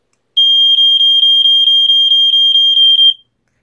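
A First Alert SA67 smoke detector sounds its test alarm in a quick pulse: a loud, piercing high beep repeated about fourteen times in a steady fast rhythm for roughly three seconds, close by with no talk.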